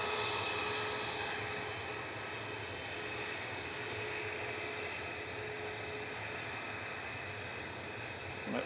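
An easyJet Boeing 737 MAX 8 lines up for takeoff at Manchester Airport, a steady, even jet-engine hum and broad rushing noise held at moderate level throughout, with no voices.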